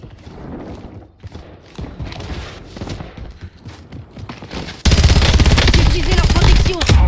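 Rapid gunfire in a multiplayer shooter video game, with bursts of shots over background game sound that swells abruptly louder and denser for the last couple of seconds.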